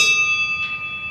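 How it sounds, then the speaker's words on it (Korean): A bell struck once in a speaking setting, its steady metallic tones ringing on and slowly decaying, with a soft brush of extra shimmer partway through; no voices over it. "여기 이제 종이 있는데요."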